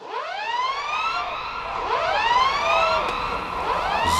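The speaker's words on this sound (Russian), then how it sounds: "Когда она добралась до города, тот поприветствовал ее ревом сирен." Several sirens wail over a town in the video game Valiant Hearts: The Great War, overlapping rising and falling tones sweeping continuously, loud and close with no talking.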